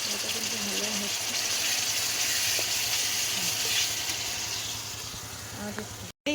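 Mutton masala sizzles and fries in oil in a pan during a home-cooked goat meat curry, a loud, steady crackling hiss with faint stirring underneath, cutting off briefly at the very end.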